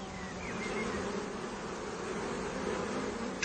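Bees kept by monks on Mount Athos buzz in a dense, steady drone, several insects close by humming continuously without a break.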